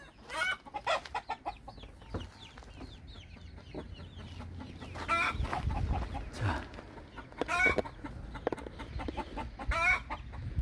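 Chickens of a small breed cluck and call repeatedly inside a coop, with bursts of busy, overlapping clucking close to the microphone over a low rumble.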